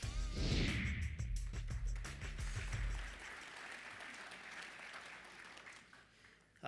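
A round of applause at the USBC annual convention meeting, opening with a loud burst of crowd clapping that fades gradually into a thinner, quieter patter.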